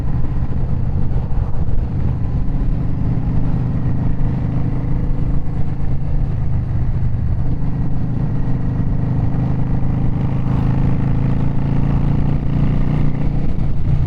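Steady loud rumble of a Yamaha V Star motorcycle cruising on a road, with wind noise over the engine throughout and no talk.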